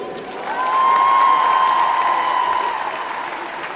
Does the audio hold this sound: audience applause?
yes